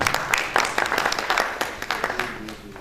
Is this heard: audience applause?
yes